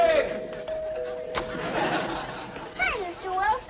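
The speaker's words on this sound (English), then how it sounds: "I've been ringing your bell." A doorbell on a 1950s sitcom set rings with a steady chime tone, followed by voices calling out and chatting over and after it.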